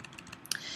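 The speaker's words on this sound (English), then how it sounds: "just by hitting the bracket key on your keyboard" Bracket keys on a computer keyboard are pressed in a quick run of faint, close clicks lasting under a second, with no speech.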